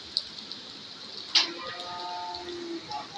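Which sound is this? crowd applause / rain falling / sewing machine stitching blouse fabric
rain falling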